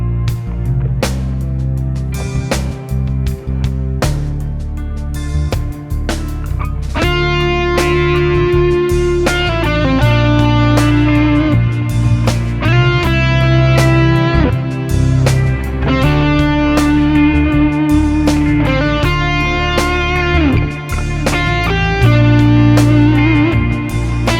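Distorted electric guitar plays sustained, crunchy chords and notes over a backing track with steady drum hits, loud and continuous.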